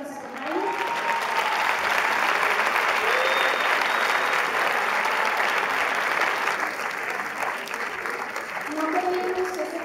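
A festival audience applauds a guest of honor arriving from Mexico City, a full, steady wash of clapping from a large crowd lasting the whole stretch, with a few voices calling out beneath it.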